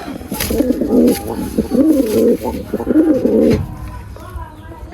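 A male Lakka pigeon coos up close in a loud, throaty, rolling burst repeated three times, with bits of handling noise around it.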